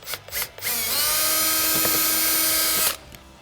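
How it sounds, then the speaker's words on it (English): A power drill with a 1/4 inch bit bores a hole while fender flares are fitted to a Polaris RZR XP Turbo: a few short revs, then one steady whining run of about two seconds, close and clear. "So we'll get a 1/4 inch drill bit, drill these holes"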